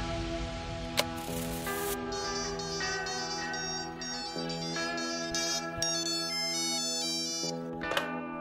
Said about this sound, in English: it all started by a phone call